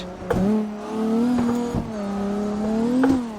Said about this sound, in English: we're just bouncing off the rev limiter in 6th now